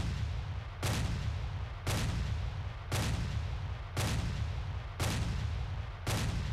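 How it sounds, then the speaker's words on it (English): Incoming 60mm mortar fire in Steel Panthers, six loud evenly spaced booms about a second apart over a constant low rumble. "here comes those 60s mortars"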